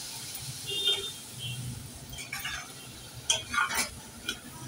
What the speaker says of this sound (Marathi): आता यामध्ये घालूया ओली करंदी आणि छान परतवून घेऊया